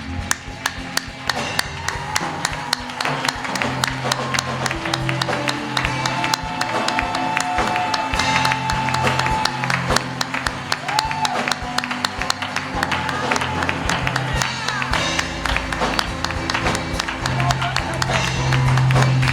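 A church congregation at a gospel festival applauds and cheers in praise of the Lord, with dense, continuous clapping and voices over loud music running steadily throughout.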